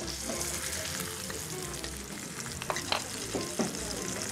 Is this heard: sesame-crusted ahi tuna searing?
yes